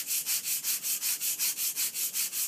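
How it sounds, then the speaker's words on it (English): A sanding board rubs back and forth along the edge of a model rocket fin to bevel it, a steady rhythmic scratching of about a dozen even strokes, close and alone. "take a sanding board and hold it at your fin at an angle"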